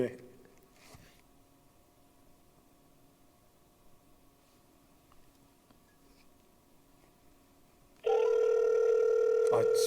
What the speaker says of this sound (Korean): 우리 한번 담임 목사님께 전화 한번 걸어볼까요?